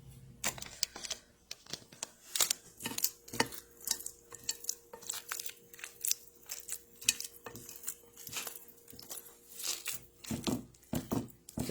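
Peanut butter and banana mixture being pushed into a pan, giving a steady run of soft clicks, scrapes and taps of a utensil against the pan, close and fairly quiet, with no talking.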